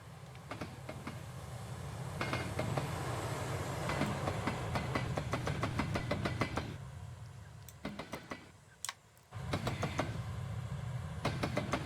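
An LNER Y6 steam tram locomotive in a train simulator rolls along with steady clickety-clack from track joints, rhythmic clicks over a continuous rumble that briefly thins out before the regular beats return.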